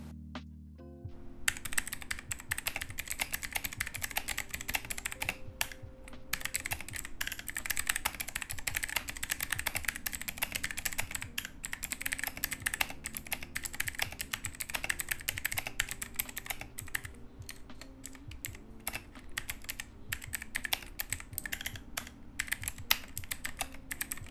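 Steady typing on a VortexSeries GT-8 mechanical keyboard with swapped switches, close and crisp, with rapid clacking keystrokes running continuously for the whole stretch.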